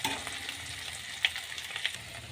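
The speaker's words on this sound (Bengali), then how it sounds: "এখানে পেঁয়াজ ভাজা হচ্ছে।" Onions frying in a pan with tomato, ginger-garlic paste, salt and spices for chicken keema, a steady close sizzle with a few sharper crackles and stirring scrapes.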